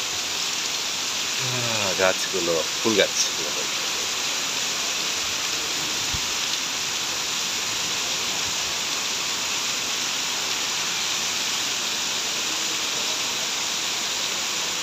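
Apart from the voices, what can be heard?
rain falling in the city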